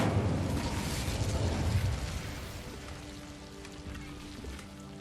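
An Incendio fire spell is cast in a Hogwarts video game, giving a loud burst with a roaring, crackling whoosh that fades over a couple of seconds into a softer rumbling tail with faint tonal hum.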